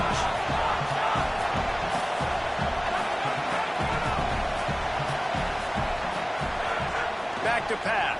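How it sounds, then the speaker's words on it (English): A loud football stadium crowd roars and cheers before a second-down play, a dense sustained wall of noise with scattered shouts and whoops, and a commentator's voice talking over it. "this crowd is turning it up a notch"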